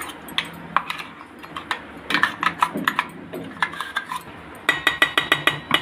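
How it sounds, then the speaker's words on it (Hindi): Ground soaked masoor lentil paste being scooped from a grinder jar into a separate vessel, with a series of sharp clinks and scrapes of a spoon against metal, some in quick bursts, close and fairly loud with no talking. "यहाँ देखिए दाल हमने पीस ली है सारी, इसको एक अलग बर्तन में निकाल लेते हैं।"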